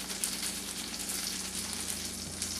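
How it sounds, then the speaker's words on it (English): Butter sizzles and crackles steadily in a hot pan for apple strudel filling, a dense continuous frying hiss at close range with no voices. "Now our butter, you can hear, is sizzling away."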